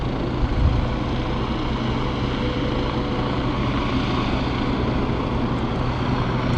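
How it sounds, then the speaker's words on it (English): A helicopter lifting off from a nearby helicopter base gives a steady, loud broadband rumble with low rotor throb that holds at a constant level throughout, with no talk heard. "It's going up. It's a base right there for helicopters."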